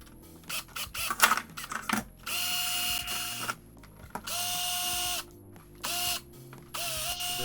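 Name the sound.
drilling new vent holes in a carbon fiber spoiler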